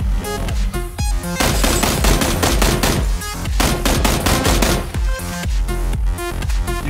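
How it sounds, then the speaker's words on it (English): Sustained, loud rattling gunfire from a weapon shooting at a window in the video game PUBG, rapid, closely spaced shots layered over a tonal game soundtrack. "his gun's shooting at the window right now"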